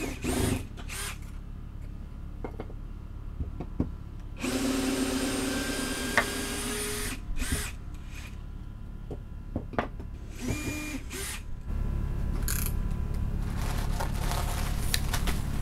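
Power tool unscrewing fasteners from a steam bending form used for white oak, with several bursts of whirring driver noise separated by quieter handling sounds and clatter.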